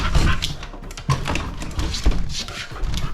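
Excited puppies whimper and yip close by while jumping and scratching at a door to get outside, with thumps and scrapes breaking through a steady run of restless noise.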